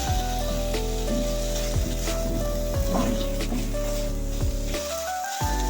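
Chicken sizzles as it is stirred and cooked in a pan for samosa filling, a steady close frying hiss with intermittent stirring scrapes, heard under background music.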